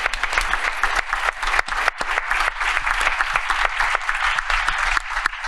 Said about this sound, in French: c'est un tonnerre d'applaudissements pour le tournoi que tu vas avoir en Corée à partir de la semaine prochaine